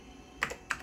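Two sharp keystrokes on a Mac Classic II keyboard used as a terminal, spaced about a quarter second apart, close and clear over a low background hum.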